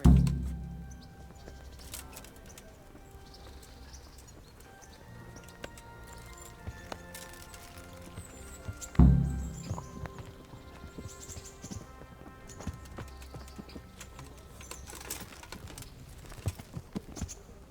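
Horse hooves in the video game Kingdom Come: Deliverance clip-clop in a steady walking rhythm, with a couple of heavier thuds and faint ambient sounds in the background.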